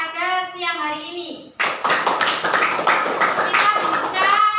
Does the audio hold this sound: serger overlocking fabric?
no